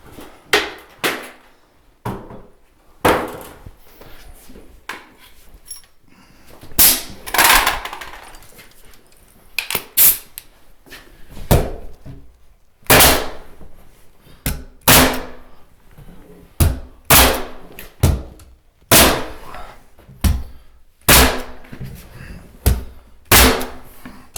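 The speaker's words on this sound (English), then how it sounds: "I'm going to back up for a second, grab my nailer, and put a few nails in that to make sure that's pulled over close to the wall" Pneumatic nail gun firing a series of nails into a wall stud while a closet is framed, giving sharp irregular bangs spaced a second or two apart, close and loud, over a faint room background with no talk.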